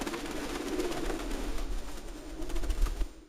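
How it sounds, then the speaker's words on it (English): A pigeon coos softly with a low, steady murmur under faint ambient background noise, the gentle calls continuing for a few seconds before cutting off. "The pigeon flew quietly between the tents, listening and watching everything carefully."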